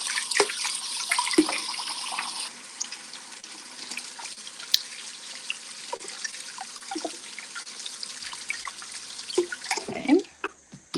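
Hands being washed under a running kitchen tap, a steady stream of water splashing and trickling with rubbing and dripping, ending as the flow stops.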